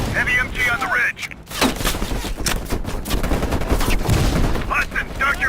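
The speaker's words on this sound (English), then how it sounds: "Hudson, heavy MG on the ridge." Heavy machine gun fire in Call of Duty: Black Ops Cold War, with dense rapid bursts and booming shots running loud throughout, mixed with game sounds and voices.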